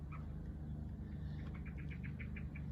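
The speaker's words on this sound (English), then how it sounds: "That's the sound of the blackbird alarm" A blackbird in a garden gives a rapid series of sharp, repeated chinking alarm notes, faint and distant over a low steady background hum.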